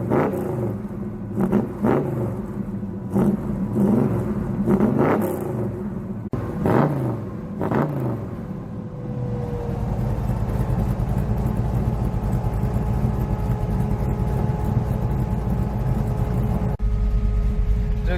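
A 1966 Chevelle's 327 V8, freshly fitted with a rebuilt carburetor, is blipped in a series of sharp revs. It then settles into a steady, rumbling idle, loud and close.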